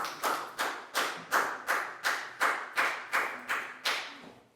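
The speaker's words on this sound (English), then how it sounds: "A big round of applause for Chu, guys." Classroom applause for students in a Year 4 science lesson: about a dozen rhythmic bursts of clapping from a group of children, evenly spaced and fairly close, with no talking.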